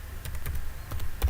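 Brief, light keystrokes tap on a computer keyboard in a loose, irregular pattern, fairly quiet and close, with no voices.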